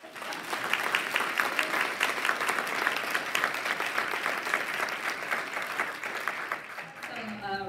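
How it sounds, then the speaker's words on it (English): A panel audience gives a full round of applause, dense and steady for several seconds, fading as a voice begins to speak at the very end. "can we first give a round of applause for that?"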